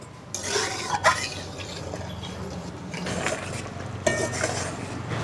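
Gravy being added to a pan of kosha chicken curry, soft liquid pouring and stirring with a few light metal clinks of a utensil against the pan, close and moderately quiet.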